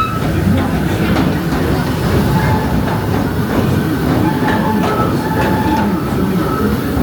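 A Disneyland Railroad train runs steadily with a loud continuous rumble and rhythmic wheel clatter, faint squeals, and a muffled announcement voice beneath.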